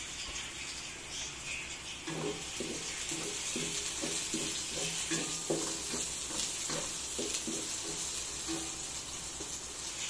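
Onion and pork sauté in a pan for pork adobo, giving a continuous sizzle and hiss with a run of rhythmic stirring scrapes in the middle.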